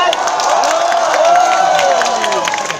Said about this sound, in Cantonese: 好啦，我哋俾啲掌聲啊，周小姐